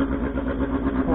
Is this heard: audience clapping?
no